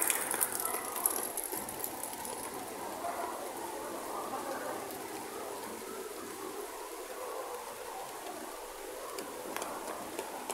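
Steady rain falls across a cemetery of Chinese-style mausoleums, a continuous soft broadband hiss of drops on surfaces throughout, with a faint voice briefly under it.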